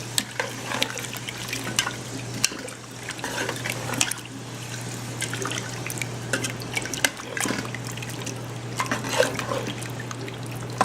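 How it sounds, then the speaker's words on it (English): Water trickles and splashes steadily into a pressure cooker pot holding goat insides, a continuous liquid pour with a low steady hum underneath, no voices. "Add any water and then we're going to pressure cook it."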